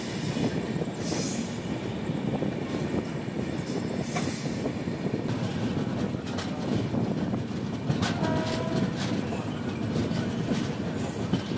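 Darjeeling Mail train rolling steadily along the rails, a continuous dense rumble with faint wheel squeals and light clatter, close and unbroken for the whole stretch.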